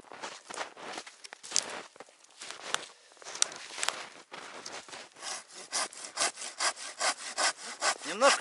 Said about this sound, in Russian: Немножко наискосок пилю.